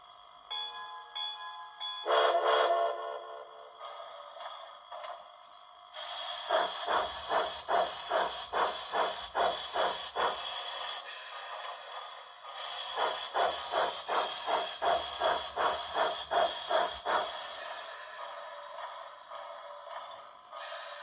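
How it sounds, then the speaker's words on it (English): Steam locomotive effects from a Soundtraxx Blunami digital sound decoder in a model train: a hiss and whistle-like tone open, then two long runs of rhythmic, evenly spaced chuffs separated by a hissing pause, crisp and close. "just want to do a quick video on the Blunami sound decoder from Soundtraxx"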